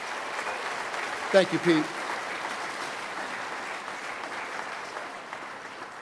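A short burst of clapping at a Hall of Fame induction ceremony rises briefly over a steady crowd murmur, with a voice speaking just before it fades.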